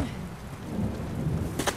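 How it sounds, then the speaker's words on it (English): Thunder rumbles under steady rain during a thunderstorm with lightning in Uncharted: The Lost Legacy, a loud continuous roll with a sharper crack near the end, no voices. "Oh, thunderstorm and lightning."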